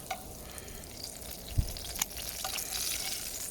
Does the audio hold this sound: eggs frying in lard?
yes